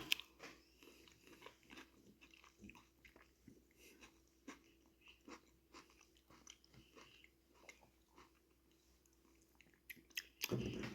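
Close, crisp bites and wet chewing of a Carolina Gold tomato, with a steady run of small crunchy, squishy mouth sounds and a louder burst at the end.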